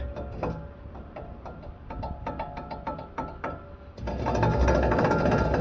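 A worn front wheel bearing on a 2015 Ram 1500 2WD, spun by hand, gives off a gritty, rapid clicking and grinding rattle up close. It grows louder and rougher in the final seconds.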